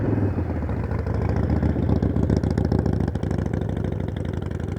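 A motorcycle engine idles and putters low and steady, close by, while a rider makes a slow U-turn in a parking lot. Throttle pulses are slight and there is no hard revving.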